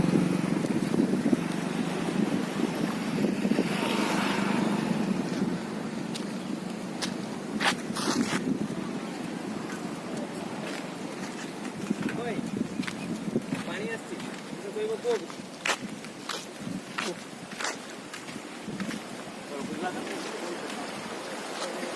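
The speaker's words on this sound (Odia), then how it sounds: "କେତେ ଜୋରରେ ପାଣି ଦେଖନ୍ତୁ।" Fast-flowing flood water rushes in a steady broadband roar, heard close and loud outdoors, with scattered clicks and bumps and wind buffeting throughout.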